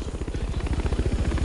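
Video game helicopter with rotor blades chopping in a rapid, steady pulsing rhythm and an engine drone underneath, loud and close throughout.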